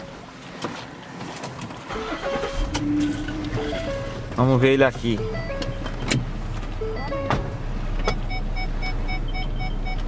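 A car starts up and reverses, its engine noise rising briefly midway and then settling into a steady low hum, with people talking nearby throughout.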